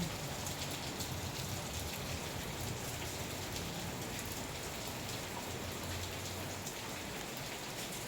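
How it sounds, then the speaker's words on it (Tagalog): Heavy rain pours steadily outdoors in General Santos, a dense, continuous hiss of drops hitting surfaces with no pauses or voices, fairly distant and even in level throughout. "Ulan, ulan, ulan."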